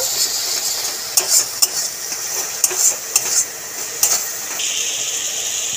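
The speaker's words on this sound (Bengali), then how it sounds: "এবার ভালো করে মশলাটাকে কষিয়ে নেব।" Bengali spice paste with a little chilli powder sautéing in oil for okra curry, a steady close sizzle with repeated sharp clinks and scrapes of a spatula against the pan.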